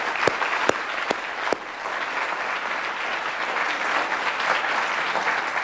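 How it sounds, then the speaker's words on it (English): A student audience at a holiday lecture series applauds the speakers: a few sharp early claps, then steady, dense clapping that fills the hall and holds at an even level to the end. "let's have one more round of applause for our terrific speakers."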